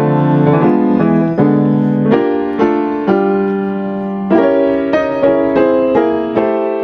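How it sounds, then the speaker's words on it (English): Piano playing locked-hands block chords on a jazz standard, the melody doubled in both hands, as a bright sequence of chord stabs moving in a lilting rhythm, loud and close with no talking. "Now, to make it locked hands, you're just going to add the melody note in the left hand and double"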